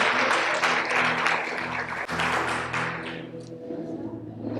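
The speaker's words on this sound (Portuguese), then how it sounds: "Aplaude Jesus aí, vai." A church congregation claps and applauds in a dense, sustained roar with music playing beneath, the clapping thinning out toward the end.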